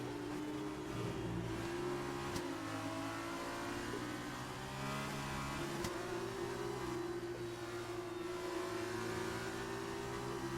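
A Formula 2 race car engine in F1 2019 revs through gear changes, a continuous droning whine that climbs in pitch with a couple of sharp shift breaks, steady and fairly close, without speech.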